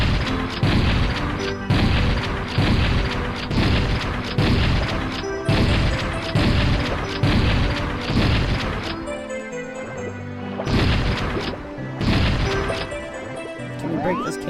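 Repeated loud shotgun blasts in a video game, heavy booming shots fired in a steady rhythm roughly every second, with a brief lull in the middle before the blasts resume.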